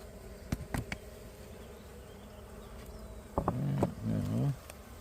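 Honey bees buzz around an open beehive being worked by a beekeeper, a soft insect drone under scattered knocks, with a louder, nearer burst of buzzing toward the end.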